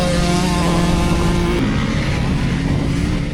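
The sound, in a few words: Honda CRF dual sport motorcycle revving high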